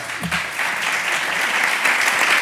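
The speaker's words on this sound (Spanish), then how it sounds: "si queréis podéis aplaudir" An audience at an energy policy debate claps steadily, a dense, even wash of applause that carries on throughout.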